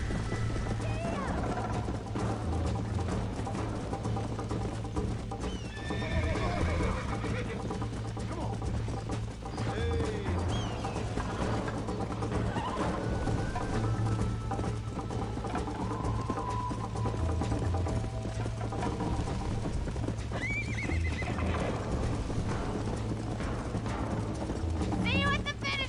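Red Dead Redemption horse hooves clip-clop steadily over a continuous music bed with voices talking throughout; a brief whinny-like cry rises midway.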